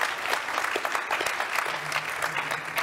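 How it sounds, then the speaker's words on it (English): An audience at a tech conference claps steadily and densely after a talk on declarative data access with GraphQL. The applause is continuous and even, with no pauses. "Let's give them a round of applause."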